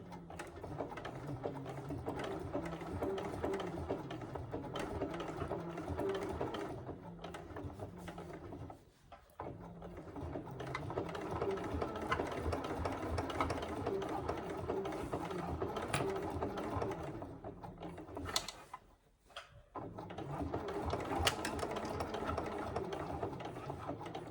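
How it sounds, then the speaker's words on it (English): A sewing machine top stitches a handbag at a longer stitch length, a close, fast, steady mechanical whirring that stops briefly twice before starting again. "increase my stitch length for the final top stitch"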